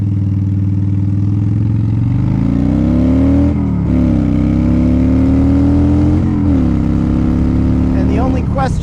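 A Harley-Davidson Dyna motorcycle with a forward controls reduced reach conversion kit roars loudly on a test ride, its engine revving up through gear shifts with rising pitch under constant wind noise.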